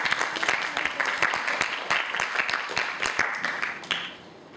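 An audience claps for a contestant at a middle school English speech competition, a dense burst of many hands that fades slightly near the end.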